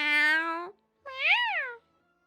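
Buddy the cat from the game Scott Whiskers gives two clear, close meows in a row, each drawn out and tonal, with the second rising and falling in pitch.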